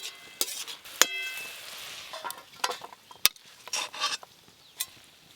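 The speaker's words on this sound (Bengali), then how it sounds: "এবার খুন্তি দিয়ে একটু এইভাবে ভালো করে সব কিছু মিশিয়ে নেব" Greens cooked in a pan and stirred with a metal spatula: sharp scrapes and clinks at irregular intervals over a soft sizzle, close and fairly clear, with no talking.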